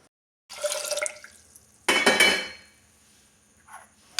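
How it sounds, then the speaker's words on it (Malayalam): Navara rice being washed in water: splashing and pouring bursts with clinks of a pot, two main washes separated by quiet, with small drips near the end. "അപ്പം ഞവരരി കഴുകിയെടുത്തു"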